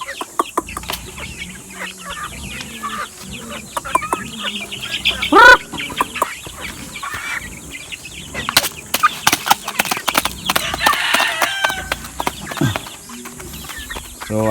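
Rhode Island Red heritage chickens newly released onto the ground at feeding time cluck steadily up close, with a few louder squawks and scattered calls from the flock throughout.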